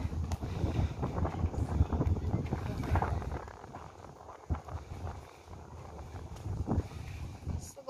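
Wind gusts outdoors near Tanjong Rhu, Singapore, with a rough, rumbling roar that rises and falls and buffets the microphone, while voices talk underneath.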